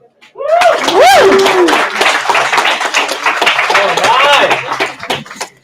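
An audience at a land development and construction seminar claps to welcome a guest speaker, a dense burst of applause running several seconds with whoops and a few shouted voices over it.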